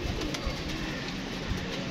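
Newly released pigeons on a rooftop loft coo steadily throughout, a soft continuous murmur of the flock close by with no talking.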